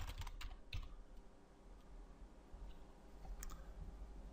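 A few quick clicks on a computer keyboard, faint and close, then a quiet stretch with another couple of keystrokes near the end.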